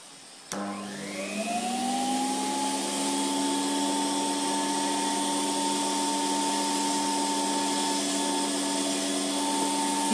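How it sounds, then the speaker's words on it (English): A professional pedicure drill machine's dust-extraction vacuum switches on with a click, then spins up into a steady, loud whine with rising tones that settles into a constant drone. "Now watch when I turn the vacuum on."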